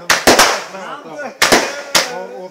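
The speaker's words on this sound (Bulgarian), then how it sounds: "Това е страхотна фойерверка." New Year fireworks burst in sharp, loud, close bangs: a quick pair, then two more spaced blasts, each followed by crackling decay.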